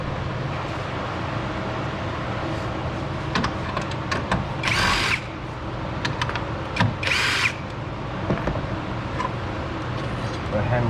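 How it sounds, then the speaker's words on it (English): A power tool drills and whines steadily while two 10mm bolts come off a GMC Acadia during starter removal, with a few brief louder bursts over continuous close mechanical noise. "It's held on with two 10mm bolts."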